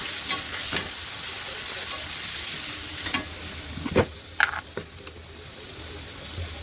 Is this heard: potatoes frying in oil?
yes